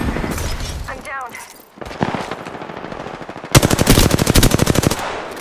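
Rapid automatic gunfire in Apex Legends, a dense burst of loud close shots in the second half, with scattered shots and impacts earlier and a voice speaking over the action.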